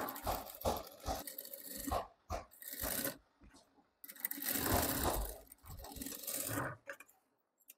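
A sewing machine stitches lining onto the neckline of a machine-embroidered half-saree blouse in short, close bursts, whirring, pausing and starting again, with quiet handling sounds in the gaps.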